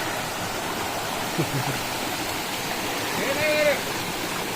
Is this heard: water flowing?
yes